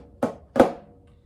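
Two crisp snare drum strokes, the second louder and ringing longer, sound close and alone as part of a Flamacue rudiment.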